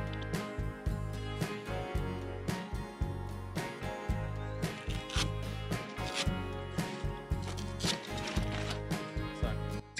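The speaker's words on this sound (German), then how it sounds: "Einmal den Reißverschluss aufmachen," A zipper on the side wall of a VW T5 awning is pulled open in a long series of rapid, close ratcheting rasps that repeat in short bursts.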